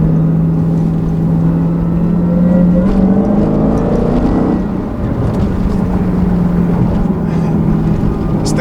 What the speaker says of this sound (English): when you do rev it out, that's when you can tell it's a real monster